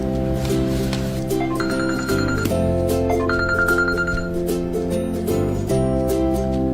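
A telephone rings while a call is being placed, heard as a loud, steady electronic ringtone melody with sustained tones that runs through the whole stretch, with no talking.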